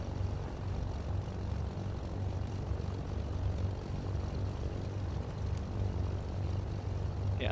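A twin-engine propeller airplane runs up at about 1,000 rpm with both fuel pumps on low, giving a steady, loud, close droning roar that holds evenly throughout with no stutter.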